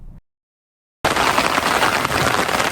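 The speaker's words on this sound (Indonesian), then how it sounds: "kita langsung mendirikan tenda di tengah hujan gerimis menggunakan payung" Light drizzle falls on a campsite at Merapi Land, where a tent is being pitched. A brief silence gives way to a steady, fairly loud hiss of rain that continues evenly to the end.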